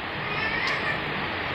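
A hungry stray cat meows in a steady, continuous wash of sound, the cry close and moderately loud without pause across the short stretch, with no talking over it.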